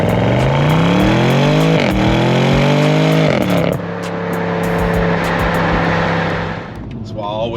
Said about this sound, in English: The engine gets louder, exhaust opens up.